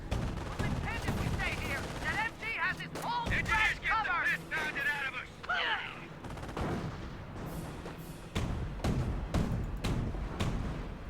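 A Company of Heroes 1 battle rumbles with artillery booms, explosions and bursts of machine-gun fire, dense and continuous, while a commentator talks over the combat.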